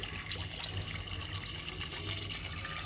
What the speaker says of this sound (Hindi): इसमें भी पानी शामिल कर देंगे।